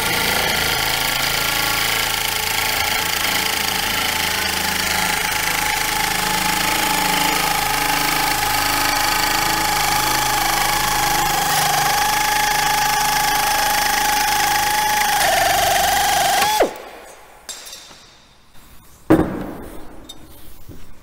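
A power tool cuts sheet metal during hand-crafted auto body repair, a loud continuous rasping buzz lasting about sixteen seconds before it stops abruptly, followed by a few metallic clanks.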